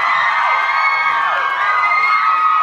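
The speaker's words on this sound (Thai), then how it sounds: "เอาเสียงกรี๊ดมาหน่อย" A large crowd at a Thai fan event screams and cheers continuously, a dense high-pitched roar of many voices that stays loud throughout.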